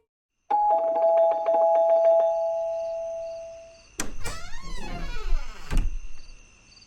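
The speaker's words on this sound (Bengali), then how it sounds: "কলিং বেল বাজাতেই ও দরজা খুলে।" A doorbell sound effect in a Bengali audio story rings out as a clear two-tone chime, followed by a thunk and the sliding, creaking sound of a door opening.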